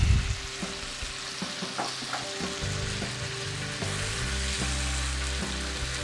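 Spring onions fry for beef chow mein in a hot wok or pan, giving a loud continuous sizzle close up as they are stirred, with faint clinks and scrapes now and then and no talk.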